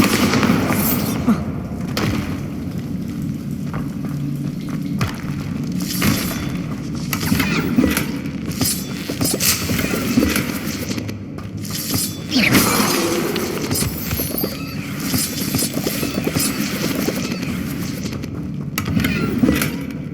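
Bombarda blasting spells going off in Hogwarts Legacy, repeated loud explosive cracks and shattering bursts with rumbling debris over game music and effects, recurring every few seconds across the stretch.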